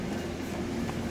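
Train passing close by, a steady, loud rumbling roar of wheels on track that fills the brief moment without a break.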